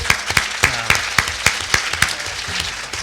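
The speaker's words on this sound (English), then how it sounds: "Let's give him a round of applause." Sparse applause at a 2018 mayoral debate hosted by the United Mine Workers of America, a few people clapping in distinct, irregular claps rather than a full ovation, moderately close and without talk over it.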